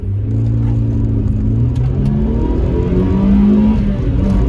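A Honda car engine revs near and loud, rising and falling in steady rumbling pulls and climbing in pitch toward the end, with no voices.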